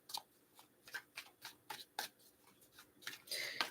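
Tarot cards being shuffled by hand, a run of soft crisp riffling bursts in an uneven rhythm, close and quiet, growing a little denser at the end.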